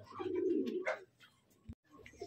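Pigeons in a loft give soft, low cooing calls nearby, a rolling coo followed by a short call, with faint background movement and a sharp knock near the end.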